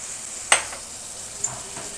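Ginger-chili paste with cumin and coriander powder frying in hot oil, a low steady sizzle with one sharp clink of a spoon on the pan and a softer second stir.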